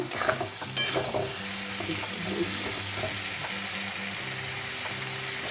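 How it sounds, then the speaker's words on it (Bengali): Cauliflower sizzling in a pan while being sautéed for khichdi, a steady close frying hiss with a few stirring clatters early on and faint tonal hum underneath. "ফুলকপি দিয়ে ভালো করে কষাতে হবে।"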